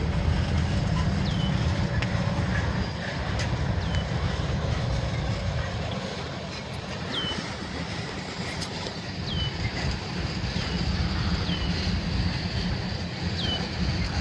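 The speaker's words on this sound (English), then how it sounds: "I get the feeling that this train is full, that these tanks are full, because they're really quiet." A loaded Canadian National freight train of tank cars rolls past at North Fond du Lac Yard, a steady, fairly quiet low rumble and rushing noise lasting throughout, with faint high squeals above it.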